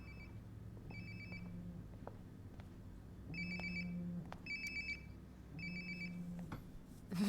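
A phone ringing nearby in the video game Life is Strange: Before the Storm, repeated electronic ring bursts in a regular pattern over a low hum, moderately loud and alone.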